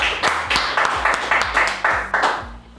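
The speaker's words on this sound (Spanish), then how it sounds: "les pido un fuerte aplauso para María Guzmán Rubio" Rhythmic clapping at a podcast recording greets a union president, with about nine steady, evenly spaced beats at close range.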